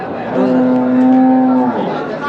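A Mysore-breed bull at a busy cattle market gives one loud, sustained low moo lasting over a second, close by, against steady crowd noise.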